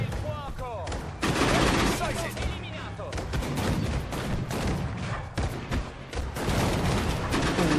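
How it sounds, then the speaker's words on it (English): Dense tank and infantry gunfire in the Sudden Strike 4 strategy game, with rapid overlapping bursts, booming cannon shots and crashes continuing loudly throughout. "Good shooting there."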